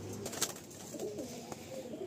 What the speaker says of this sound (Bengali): এই যে একটা পায়রা আছে বন্ধুরা